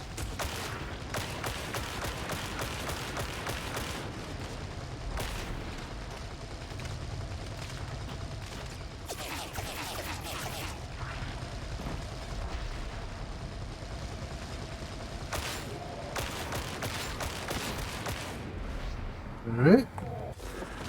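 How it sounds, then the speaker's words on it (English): Repeated bursts of gunfire from Warhammer 40k: Darktide fill the scene, with dense volleys broken by short pauses over a constant rumbling game backdrop and a brief sharp thud near the end. "Shoot while suppressed."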